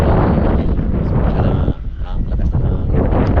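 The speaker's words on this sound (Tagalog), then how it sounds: "Lakas na hangin." Strong wind on a mountaintop buffets the microphone in a constant low roar, with a brief lull partway through, while voices talk underneath.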